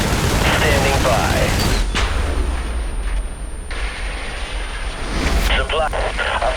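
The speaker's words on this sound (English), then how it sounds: "Airstrike approaching to designated artillery support." Airstrike and gunfire in the video game IS Defense on a harbor level, heavy rumbling blasts and rattling fire that drop away midway then surge back, with a game voice speaking over the combat.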